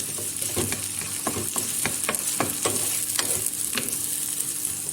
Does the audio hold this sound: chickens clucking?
no